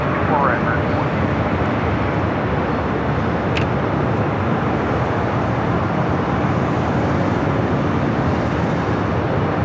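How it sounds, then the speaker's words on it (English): An Airbus A321neo arriving from Honolulu lands at LAX, its steady broadband engine roar filling the whole span at close, loud level, with a voice talking over it. "coming in from Honolulu, also an A321neo"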